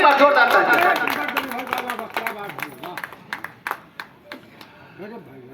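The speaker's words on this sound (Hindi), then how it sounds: "भाई एक बार जोरदार तालियां" Audience clapping at a Hindi kavi sammelan poetry gathering, a loud burst of applause at the start that thins into scattered individual claps, with a few voices in the crowd.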